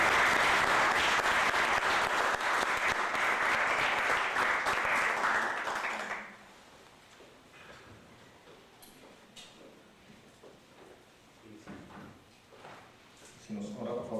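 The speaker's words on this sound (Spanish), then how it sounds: "para quien pido también un fuerte aplauso de bienvenida." An auditorium audience at a university law faculty book presentation applauds loudly and steadily to welcome a speaker, the dense clapping stopping abruptly after about six seconds and leaving quiet room noise with faint shuffling and a few small knocks.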